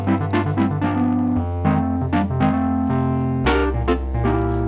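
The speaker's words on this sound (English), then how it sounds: "The whirly sound you hear, it's going through a kind of a distortion effect." Yamaha MX88 Wurlitzer-style electric piano run through a distortion effect, playing sustained chords over a deep bass line with a gritty, biting edge, loud and alone with no voices.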